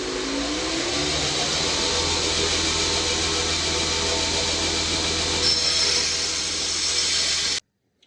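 A belt grinder with a 36 grit belt sands a Kelly axe head, giving a loud, steady abrasive whir and scraping that runs unbroken for about seven seconds before stopping sharply.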